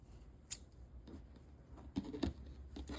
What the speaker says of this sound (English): we'll take our scissors, leaving a tail that we can weave in